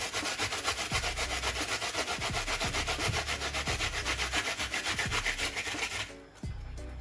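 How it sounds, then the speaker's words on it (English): Food is scraped steadily against a grater while BBQ chicken leg and thigh are being made, a continuous close rhythmic rasping that fades briefly near the end, with no talking. "I'm just gonna get grating"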